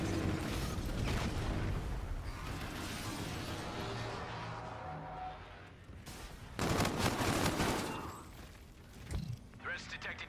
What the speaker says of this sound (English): Inbound for gun run.